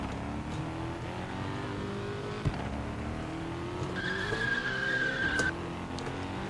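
Car drifting in the Roblox game Vehicle Simulator, with a steady engine drone and a sustained tire skid squeal building near the end, loud and close, with no talking.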